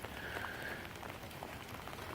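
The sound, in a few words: rain falling outdoors in Oregon in springtime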